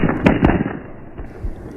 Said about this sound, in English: The gunfire came from more than one weapon.